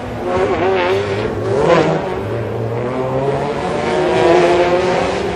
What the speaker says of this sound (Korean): 오일기 선수 지나가고 있고 지금 김재현 선수 지나가고 있는데